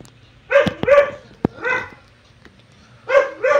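A dog barks close by, in short doubled bursts with a lone sharp yelp between them and a pause before a final pair, and no one speaks over it.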